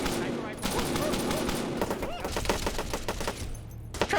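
Rapid video game gunfire crackles in dense bursts and volleys, with automatic rifle rattles and single shots spread across the clip, a voice speaking briefly over it.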